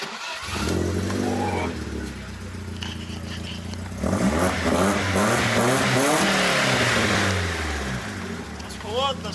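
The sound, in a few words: BMW car engine starting and revving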